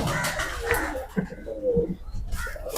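A large pet pigeon gives soft, throaty coos in short rising and falling phrases, close by amid light rustling, with a few bursts of nearby noise.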